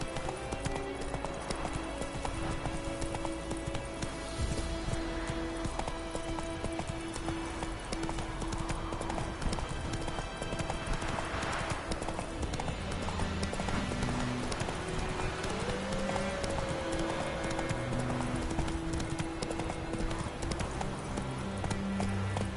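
Roach the horse clip-clops steadily at close range in a PS4 video game, the hoofbeats continuous and even beneath soft in-game music, with a brief whinny and occasional spoken urging.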